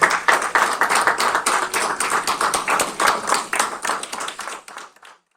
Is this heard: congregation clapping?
yes